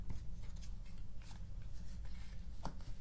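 Scissors snip through card paper for a stampin' pop-up birthday card, a few quiet crisp cuts and rustles close by.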